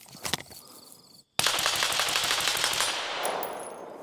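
Semi-auto rifle fitted with a SIG Sauer Hexium 556 Ti suppressor, heard first as a couple of sharp clicks, then after a short silence as a sustained loud burst of rapid, close suppressed reports with a dense rattling wash.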